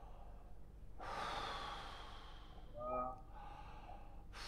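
A person draws in a deep, audible breath as part of a breathing exercise: a long, close inhale swells for about two seconds, followed by a brief throaty catch and a softer breathy tail, with no talking.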